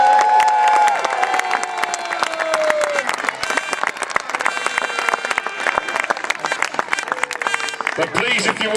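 Crowd at a medieval jousting tournament applauding and cheering for the supporting cast, dense sustained clapping with shouts and whoops, loud and continuous from start to finish.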